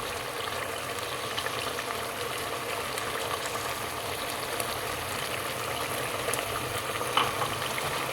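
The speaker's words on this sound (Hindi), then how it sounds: "तो हमारा आलू गोश्त भून रहा है।" Aloo gosht, a potato and meat curry, frying in oil in a pan, giving a steady close sizzle and bubbling that runs unbroken with no talking.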